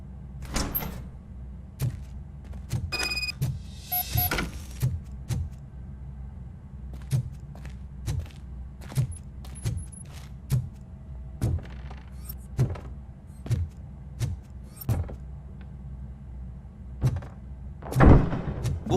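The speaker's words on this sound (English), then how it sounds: "Now let me get that door open for you." A heavy door opening in the video game Robocop Rogue City, a string of mechanical clunks and thuds repeating at a steady rhythm, with a louder thump near the end.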